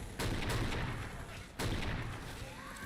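Two heavy Barrett .50 cal rifle shots from the Borderlands video game, each a sharp loud crack followed by a rumbling tail, spaced about a second and a half apart.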